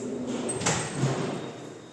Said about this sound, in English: And this is the lockable drawer. All are soft close.